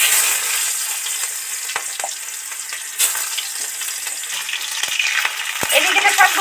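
Cardamom, cinnamon, bay leaf, chopped garlic and large onion pieces fry in a pan with a loud, close sizzle. Stirring scrapes and clinks break in now and then, and nobody speaks.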